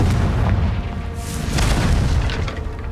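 A Confringo fire spell blast in Hogwarts Legacy, a loud booming burst with a crackling fiery rush that swells and lingers across the moment, with no talk over it.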